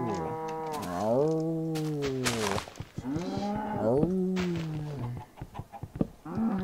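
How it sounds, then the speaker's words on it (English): Cow mooing in Minecraft: two long, loud, low moos with a drawn-out rising and falling pitch, then a shorter third call, mixed with brief game clicks and background noise. "I'm gonna kill a cow."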